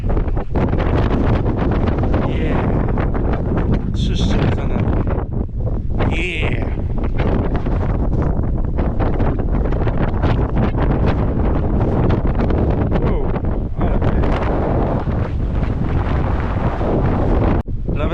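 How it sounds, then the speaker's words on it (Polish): Strong wind on a Bieszczady mountain ridge buffets continuously with heavy roaring gusts, blowing sand, loud and close throughout, with brief bits of voice barely surfacing. "Wiatr wieje, piach wali w oczy"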